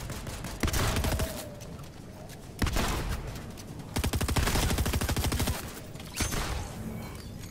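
Bursts of rapid automatic gunfire in the shooter game Fortnite, four loud rattling volleys separated by short pauses, the longest stretching over about two seconds.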